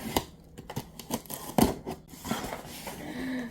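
A craft knife slices open a cardboard delivery box from Dillard's, giving close, scratchy cutting strokes and sharp snips in an uneven rhythm over a few seconds, with no talking.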